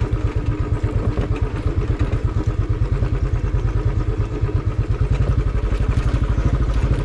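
A motorcycle climbs a mountain road toward the highland village of Sikles, its engine close and loud with a fast, even thumping rhythm and no talk.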